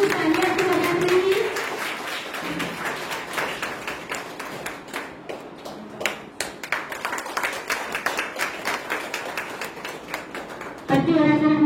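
Audience clapping at a welcoming ceremony honoring a guest with a tilak, a sustained round of many hands applauding steadily for several seconds, with a voice over a microphone at the start and end.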